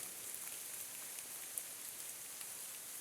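Steady rain from the remnants of Tropical Storm Ida hisses continuously outdoors, a soft even wash with occasional faint drops standing out.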